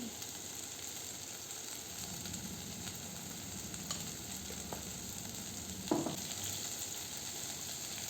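Sweet potato pieces sauté quietly in a pan with a soft, steady sizzle and faint occasional stirring taps, including one slightly louder clink near the end.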